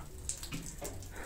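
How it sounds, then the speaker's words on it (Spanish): Water dripping in a display representing leaks inside a mine tunnel at a heritage park, a few faint scattered drips over a low background hum. "Acá también hacen representación de lo que es unas goteras de agua."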